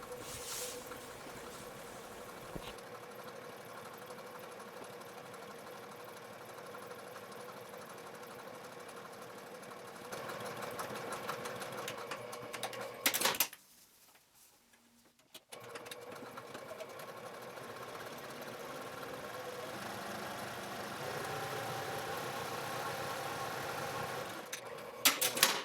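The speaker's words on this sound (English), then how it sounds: "then you'll take this to your sewing machine and you can top stitch from the right side with a 1/4 inch seam allowance along both length side edges" A sewing machine top-stitches along the long edges of fabric bag handles, a quiet, steady mechanical whir that runs continuously, pauses briefly midway, then resumes until the end.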